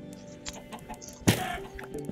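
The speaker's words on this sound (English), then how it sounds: "God, I killed a chicken with a crossbow." A Minecraft chicken clucks: faint chirps at first, then one louder, brief squawk-like cluck partway through, with soft game noise underneath.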